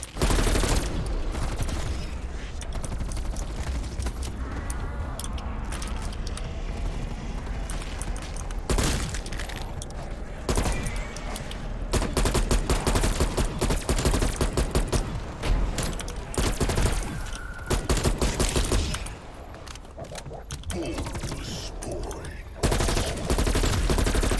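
Gunfire in a zombies shooter game, rapid continuous bursts of automatic fire nearly throughout, with brief pauses, louder stretches and occasional booms.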